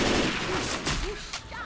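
Video game gunfire comes as a dense, loud rattle of shots over a short burst. Sharp cracks stand out near the end.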